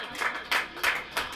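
A congregation at a church sermon claps in unison, four even, rhythmic claps at a steady moderate pace, heard alone without talk.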